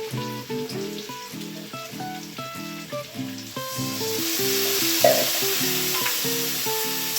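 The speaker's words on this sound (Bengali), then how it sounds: "মশলাটাকে কষে নিই।" Spice paste fries with a splash of water in a pan, a rising hiss and sizzle building over a rhythmic tonal pattern of background music, with one brief sharp burst partway through.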